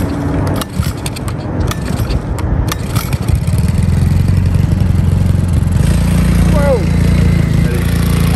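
A new small gas motor bought on eBay fires back up after its fuel line is pumped, running steadily at a loud, close, even drone with some clatter, and a voice speaks over it.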